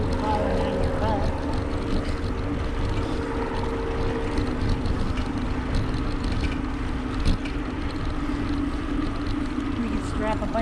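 Airplane engine drone passing over a bike trail in Fort Myers, a steady loud low rumble held for the whole stretch under broad outdoor noise, with faint talk mixed in.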